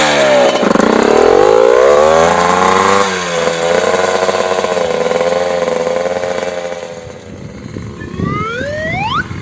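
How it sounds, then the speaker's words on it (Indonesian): A stalled motorcycle that runs without the ignition key drones with a loud, rough engine note that swells and shifts pitch, while an unrelated high warbling sound rises at the end. "Wah, motor euy."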